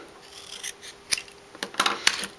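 Scissors cut a piece of black cardstock in two, giving several sharp, close snips that come faster toward the end, against a quiet background with no speech.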